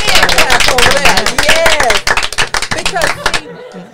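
A hand clap sound effect plays in quick, loud repeated strikes with a busy rhythmic backing, then cuts off abruptly just before the end.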